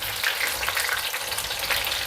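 Sweet potato slices frying in hot oil in a covered pan, a steady close hiss and crackle of sizzling with no voices.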